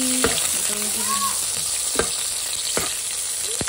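Chickpeas sizzling steadily in hot oil, a dense continuous hiss punctuated by several sharp utensil clicks and scrapes as they are stirred, close and fairly loud with no talking.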